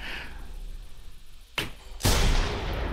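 Gunfire in The Hunter Primal, a dinosaur hunting game: a sharp crack at about one and a half seconds, then a louder, heavier shot at two seconds with a decaying rumbling tail.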